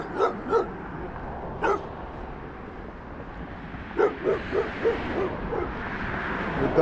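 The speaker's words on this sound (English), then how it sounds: "The dog wants to eat me." Out on a snowy walk, a dog lets out scattered barks: two quick ones, a lone bark, then a burst of five or so, fairly close over a steady background rush.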